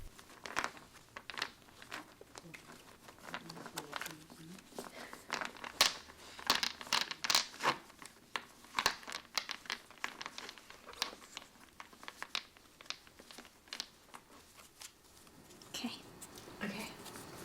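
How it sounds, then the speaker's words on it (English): Tarot cards being shuffled by hand, producing soft, irregular crinkling riffles and taps that come in quick bursts, with low voices murmuring in the background. "you shuffle the cards until your subconscious mind feels at ease"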